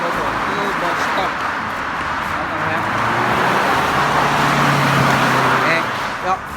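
Steady road traffic passes at a bus stop on an American street, a continuous wash of car and bus engine noise rising slightly toward the end, with a voice talking over it.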